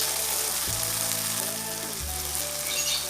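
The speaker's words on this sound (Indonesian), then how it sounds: "Kita tumis dulu sebentar." Galangal, lemongrass, pepper, bay leaves and lime leaves sauté in hot oil as the spice base for rendang, giving a steady close sizzle with a low rumbling swell in the middle, and nobody speaks.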